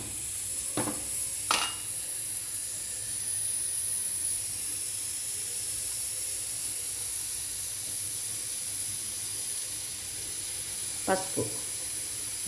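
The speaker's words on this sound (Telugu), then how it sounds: "కుక్కర్ గారు గోలు చేసేస్తున్నారు." A pressure cooker cooking lentil soup gives off a steady, continuous high hiss with no clear whistle, while a few brief clinks and a single spoken word break through.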